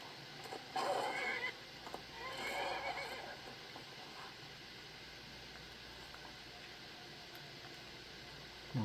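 A horse in the video game Skyrim whinnies twice in quick succession near the start, then its hooves and movement fall into a steady low rumble with faint ambient noise for the rest.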